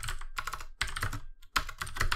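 Quick bursts of typing on a computer keyboard come in three short runs of rapid, close key clicks, separated by brief pauses.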